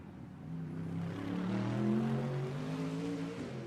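A DTM race car powers around the Norisring street circuit in Germany, its engine note rising and swelling loudly as it passes close by, then holding a strong, sustained roar.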